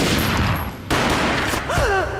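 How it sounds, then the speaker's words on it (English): A gunshot booms in a Max Payne cutscene, a loud broadband blast over a rumbling noir score, followed by another sharp hit and a swooping tonal sound. "A gunshot boomed and she fell down in slow motion."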